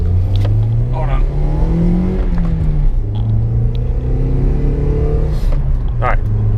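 A car drives past on a road in low light, its engine rumble rising and falling as it goes by close and steady, with someone talking over it throughout.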